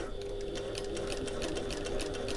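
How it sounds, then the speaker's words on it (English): Sewing machine top stitching a backpack along an existing stitch line, a loud, close, continuous rapid whir with a fast regular needle beat throughout. "So I'm going to sew along that same line of stitching."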